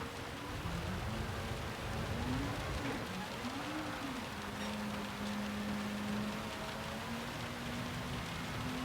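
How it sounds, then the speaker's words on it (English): Steady rain hiss fills a wet Gran Turismo 7 race at Spa in an Audi RS5, a race car engine droning and rising beneath the constant downpour. "Rain really has come in, but the rain's going to back off just a little bit now"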